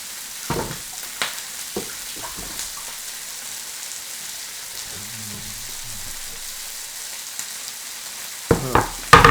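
Ingredients for rougail saucisse fry in a pan with a soft, steady sizzle. A few sharp stirring knocks come near the start, and louder clatter comes at the end.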